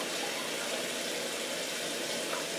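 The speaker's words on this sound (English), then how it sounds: "We're gonna add regular water" Plain tap water runs steadily into a cooking pot holding corned beef and cabbage, a continuous close splashing pour with no talking.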